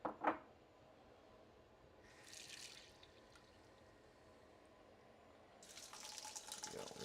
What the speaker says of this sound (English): I will also do a couple ladles worth of water